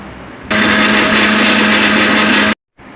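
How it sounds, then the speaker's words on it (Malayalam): A kitchen mixer grinder whirs loudly, steady and close, as it grinds peeled apple, running for about two seconds before cutting off abruptly. "ആപ്പിൾ തൊലി കളഞ്ഞിട്ട് നമുക്ക് മിക്സിയിൽ ഇട്ടിതൊന്ന് അരച്ചെടുക്കണം"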